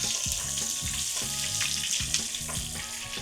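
Strips of bacon sizzling and crackling in a hot pan as they crisp, a steady close hiss with scattered pops, alone without talk.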